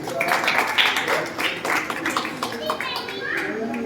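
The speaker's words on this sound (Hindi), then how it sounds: "हाँ जोरदार ताली।" A gathering at a religious discourse in Budh Vihar, Delhi claps loosely and unevenly, sharp scattered claps mixed with children's and other voices talking over them at moderate volume.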